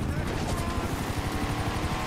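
Steady low rotor thumping from a helicopter in GTA 5 Online, loud and close, running without pause for the whole stretch.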